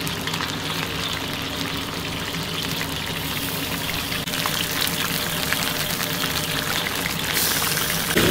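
Fried fish laid in a wok of hot oil with scallion, ginger, garlic, Sichuan pepper and star anise sizzles as a loud, dense, steady hiss that grows a little toward the end.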